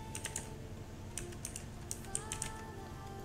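Fingers typing on a computer keyboard in short, quiet clusters of light key clicks with brief pauses between them, faint and close, set against a low steady background hum.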